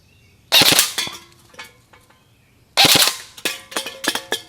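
An Umarex AER 16 airgun firing on full auto: two rapid bursts of sharp, loud snapping shots, the second trailing into scattered metallic pings from struck targets, outdoors with no talking.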